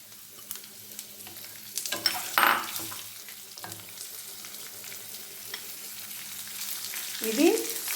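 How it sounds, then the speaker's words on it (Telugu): Sweet pumpkin and other vegetables go into hot oil in a pan, giving a soft steady sizzle with a few louder bursts and stirring scrapes, no one talking. "ఇప్పుడు దీంట్లో కూరగాయలన్నీ వరుసగా వేసేసుకుందామండి నూనెలోనే మగ్గనిద్దాం"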